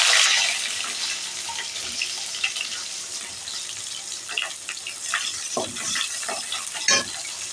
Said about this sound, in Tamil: கடுகு பொரியவும் கொஞ்சமாக சோம்பு, கொஞ்சம் கருவேப்பிலை, நம்ம கட் பண்ணி வச்சுருக்கிற வெங்காயம்